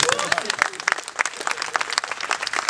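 A comedy show audience claps in a brisk, close burst of applause, with voices calling out and talking over the clapping throughout.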